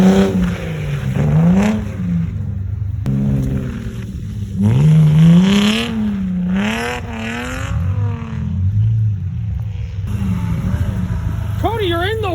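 A K20-powered Bug chassis side-by-side revs hard in snow, its engine note surging up and down in loud sweeping pulls with sharp rises near the end, people talking over it.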